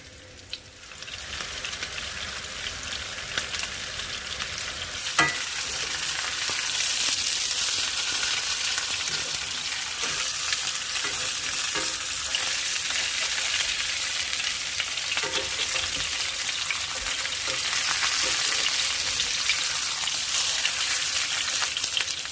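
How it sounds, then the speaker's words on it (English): Meat searing in a hot pan makes a continuous close sizzle that swells louder after the first few seconds and holds steady, with a few faint knocks and no talk. "You'll want to make sure it starts to sizzle."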